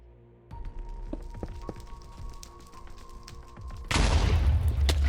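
End crystals explode in Minecraft in the End world. A low, steady game hum runs first, then a sudden loud blast erupts near the end and keeps rumbling to the close.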